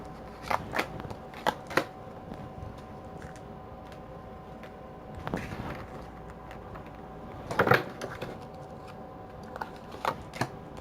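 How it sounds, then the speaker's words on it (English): Tarot cards are picked up and shuffled in scattered soft clusters of crisp card riffles and taps, quiet and close, with brief pauses between bursts. "I was actually just trying to pick up those cards."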